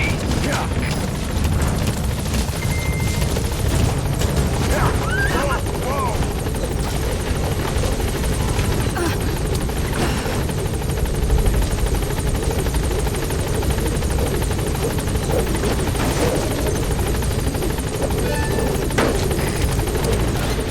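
A helicopter in Metal Gear Solid V: The Phantom Pain holds at a landing zone, its rotor and engine making a loud, steady drone that runs unbroken throughout.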